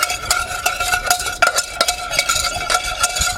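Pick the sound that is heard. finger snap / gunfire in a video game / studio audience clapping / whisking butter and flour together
whisking butter and flour together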